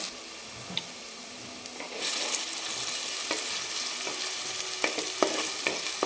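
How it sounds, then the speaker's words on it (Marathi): Chopped onion hits hot oil and fries toward golden, the faint background jumping at about two seconds into a loud continuous sizzle with intermittent stirring scrapes and clicks, close up and without speech. "कांदा टाकून आणि छान सोनेरी कलरवर आपण याला परतून घेणार आहे"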